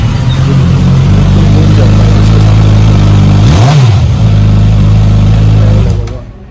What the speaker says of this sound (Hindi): ये देखो अभी मैं जैसे इसको स्टार्ट करता हूँ, स्टार्ट करते ही आप पूरा देखना, एक बार शोरूम गूंज जाता है यार।